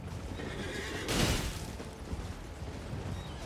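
A horse in the Elden Ring video game lets out a single loud, close neigh, set against faint game ambience with no talk.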